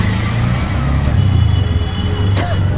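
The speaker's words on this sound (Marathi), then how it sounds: "बघा मित्रांनो आम्ही रिक्षामध्ये बसले" Inside a moving auto rickshaw, the small engine drones loudly and continuously with road traffic around it, a brief sharp honk cutting through near the end, voices faintly mixed in.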